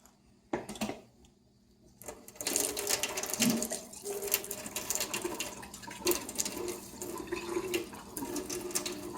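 Lab glassware being washed under a running tap: after a brief quiet start with a faint knock, water gushes steadily and loudly, close by, with small clinks and splashes in the stream.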